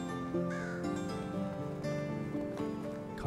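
A bird calling in the Medieval Dynasty video game, a few harsh crow-like caws over a tonal in-game music bed, fairly faint and without speech.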